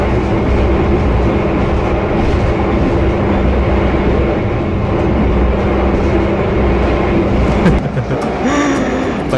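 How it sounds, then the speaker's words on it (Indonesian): The Argo Lawu passenger train runs at speed, producing a steady loud rumble and rattle heard from inside the carriage. Faint clicking and brief squeals rise near the end. "Belum apa-apa nih kereta udah ngamuk aja."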